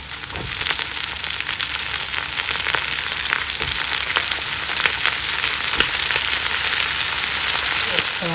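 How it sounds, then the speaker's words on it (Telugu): Brinjal pieces fry with onions in a pan, a loud, dense, crackling sizzle running steadily throughout with frequent small pops and spatters. "ఉల్లిపాయలు కొద్దిగా వేగాక దీనిలో వంకాయ ముక్కలు వేసుకుందాం."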